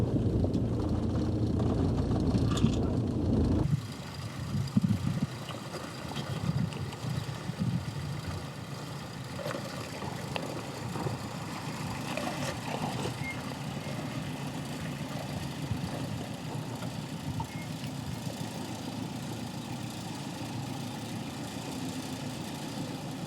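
A Jeep Cherokee runs on a 4x4 club challenge off-road track, its engine giving a continuous low rumble that stays fairly steady, with a brief louder passage at the start.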